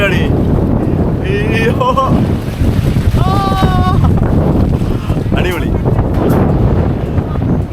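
Strong sea wind buffets the microphone in a continuous roaring rush at a seaside spot in Cambodia, with people talking and exclaiming over it.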